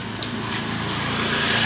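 A motorcycle engine drones past at close range, its steady low hum swelling slightly louder over under two seconds on a roadside.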